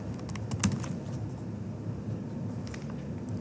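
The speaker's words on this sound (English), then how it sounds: "I'm tired of typing that line of code." Computer keyboard being typed on in quick bursts of light, close clicks over a steady low room hum, with no talking.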